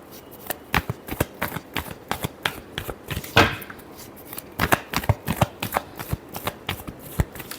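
Tarot cards shuffled by hand in a steady run of crisp, close riffling snaps, with a brief louder flurry midway and no talking.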